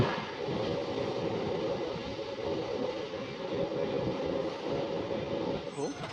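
The Asansol–Varanasi MEMU passenger train rumbles along steadily, a continuous low rolling clatter heard from inside the carriage, fairly quiet, with faint voices under it and a slight squeal near the end.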